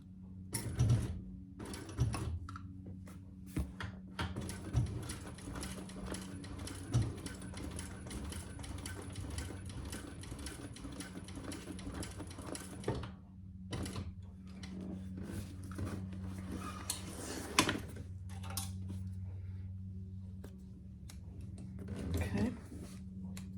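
A sewing machine labors through thick bag fabric in bursts of rapid mechanical stitching, pausing briefly and starting again, close and fairly loud, with a mid-session break and some handling clatter.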